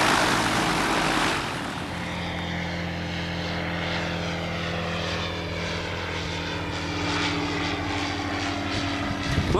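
A light propeller airplane drones steadily in flight on a sea crossing toward Cherbourg, a constant engine hum with a strong low tone and wind rush, no talking.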